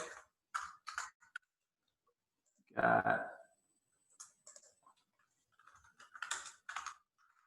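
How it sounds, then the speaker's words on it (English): Keys tapped on a computer keyboard in short clustered bursts between pauses, with a brief talking voice near the middle, close and moderately quiet. "I have to type this out real quick"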